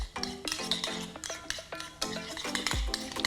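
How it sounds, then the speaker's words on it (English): Dijon mustard and mayonnaise mixed in a bowl for potato salad, with quick repeated clinking and scraping strokes of a utensil against the bowl, close and distinct. "I'm going to mix up the mustard and the mayo."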